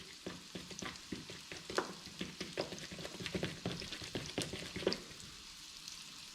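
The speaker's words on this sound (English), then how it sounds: "I'm turning the sausages, I'm doing the onions, and I'm doing the butter." Cumberland sausages and onions fry slowly in a pan with butter, giving a steady crackling sizzle broken by repeated scraping and stirring clicks as the sausages are turned, close and moderately loud.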